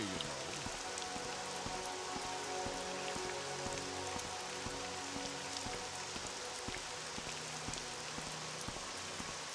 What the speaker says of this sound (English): Angrily walk home in the I rain.